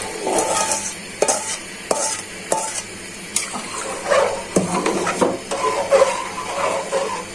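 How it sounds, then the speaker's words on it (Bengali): Soaked mashkalai lentils tumble into a pan of pumpkin in several scraping, splashing bursts, with clatter from the utensil against the pan and a faint sizzle between pours. "ডালটা আগে থেকে ভিজিয়ে রেখেছি সিদ্ধ করার জন্য, এখন এটা ঢেলে দিচ্ছি।"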